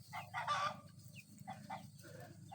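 Chickens cluck in short, quiet bursts while a rooster crows once early on, all fairly faint and close, from a chase after chickens in a coop.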